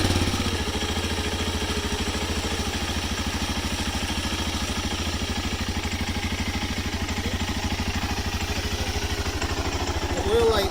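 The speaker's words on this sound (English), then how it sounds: "I'm going to go ahead and run the bike for about a minute like they said" A BMW F650CS motorcycle engine idles steadily just after an oil change, a close, even mechanical thrumming that runs unbroken throughout.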